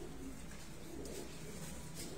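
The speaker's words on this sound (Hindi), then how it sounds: "बहुत अच्छी प्यारी कबूतरी।" A breeder pigeon at a pigeon fancier's loft in Faisalabad coos softly and continuously, faint and somewhat distant, with no talk over it.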